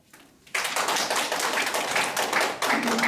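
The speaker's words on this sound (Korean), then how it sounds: "박수." Group of people clapping together in a lecture hall after a talk on silkworms and cocoons, starting abruptly after a short quiet moment and continuing as steady, dense, fairly close applause with no voices.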